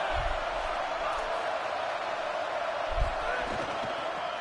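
Stadium crowd at a football game, a steady broad roar of many voices holding throughout, with a couple of brief low thumps rising out of the din.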